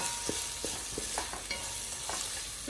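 Beef being stirred and fried in a pan for crispy chilli beef, a low steady sizzle with soft scraping strokes of the spoon recurring every half second or so, close and fairly quiet, with no voices.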